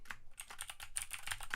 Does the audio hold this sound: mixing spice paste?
no